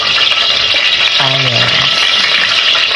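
Garlic sizzles and fries in a pan for pork chop suey, a bright continuous hiss with a brief scrape of stirring midway, loud and close, no talking.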